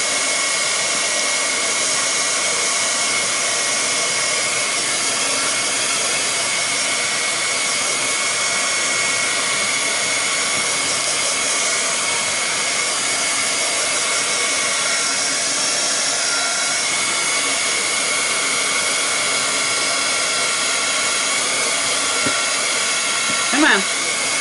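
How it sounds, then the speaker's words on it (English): A heat gun blows a steady, loud roar of hot air onto a small piece of plastic, a continuous broadband hiss that holds unchanged for the whole stretch with no talking over it. "I'm just going to take the heat gun to it."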